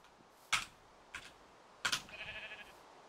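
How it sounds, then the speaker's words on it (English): Sheep-like bleats from a creature in the Minecraft Bedrock Dwellers addon, three short separate calls with the last one stretching into a wavering bleat, close and fairly clear over a quiet background, no speech. "It's just another sheep."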